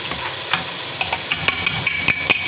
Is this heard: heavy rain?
no